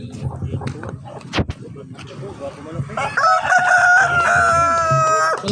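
A rooster at a fowl beauty award event crows loudly partway through, a long ringing cock-a-doodle-doo that follows earlier talking and clucking, with people chattering throughout.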